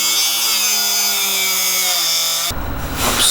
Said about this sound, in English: I'm gonna have to cut the bolt right up there